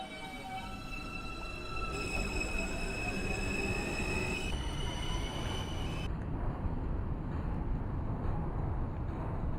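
R160B subway train running in the OpenBVE simulator game, a steady rolling rumble with stepped high motor whines that drop away partway through, ending in plain track noise.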